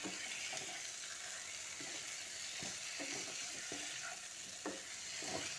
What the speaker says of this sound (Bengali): এবার আরও একবার ভালো করে মিশিয়ে নিচ্ছি